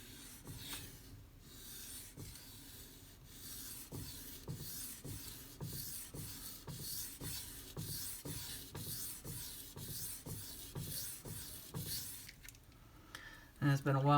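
Knife edge, a Spyderco Smock, stroked across Pride Abrasives sharpening stones in steady repeated rasping passes, close and continuous, with a louder scrape at the very end.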